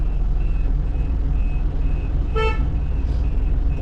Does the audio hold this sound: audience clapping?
no